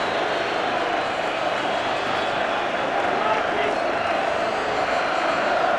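A large Wembley football crowd at the 1985 League Cup Final roars and applauds continuously, a dense, even wash of cheering that never lets up.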